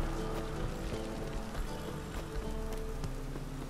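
Steady rainfall in The Witcher 3: Wild Hunt, a continuous even hiss of drops on surfaces at moderate level with no talking.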